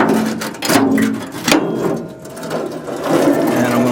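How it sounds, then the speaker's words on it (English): A wire wheel grinds and brushes the inside metal of a Ford F100 truck rear quarter panel, with loud, close scraping and whirring bursts that surge and dip as the tool is worked. "I'm going to take a wire wheel, and I can get it from behind."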